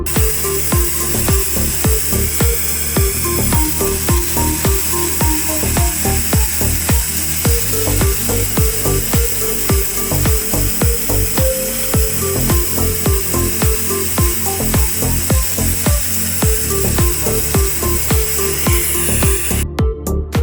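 A 500 W pulsed laser cleaning machine with a 5 mJ source strips oil stains from a metal surface, giving a loud, continuous crackling buzz with rapid rhythmic ticks throughout and no voices.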